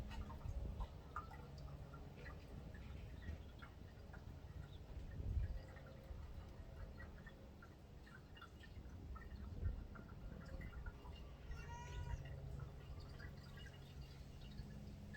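Water trickles and drips steadily into the manual reservoir tank of a Cimbali M20 Junior espresso machine, a soft continuous filling sound with small splashes and a couple of louder bumps, no talking.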